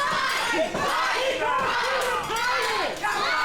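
Wrestling arena crowd shouting and roaring loudly and continuously throughout, with excited voices swelling and dipping, a commentator talking over the din.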